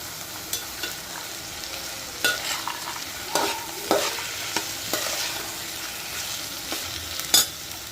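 Ginger garlic paste and ground onion fry in a pan for an eggplant and chickpea curry, giving a steady low sizzle broken by sharp scraping stir strokes at irregular intervals, close and with no talking.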